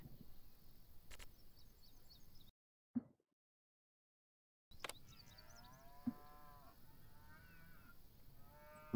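Cattle in the Farm Manager 2021 video game moo in a few drawn-out calls, with a brief cut to silence midway and some faint chirping in the background.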